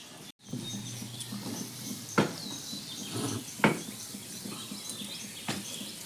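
Gulab jamun made from atta fry in oil on medium heat, a quiet, soft sizzle under scattered light scraping and a few sharp clicks as the pieces are stirred, with no talking.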